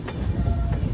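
A train rumbles past close by, steady low rolling noise with faint rhythmic clacks of wheels over the rails.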